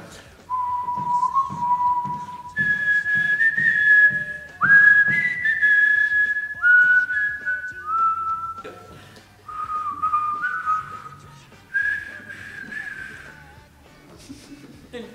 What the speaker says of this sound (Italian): Fischia l'inno nazionale.